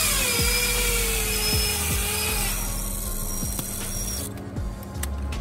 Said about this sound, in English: take your drill, put both ends in into the chuck, tighten it down, have someone hold on this end, and then start real slow.